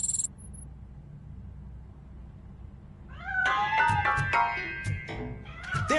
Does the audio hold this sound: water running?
no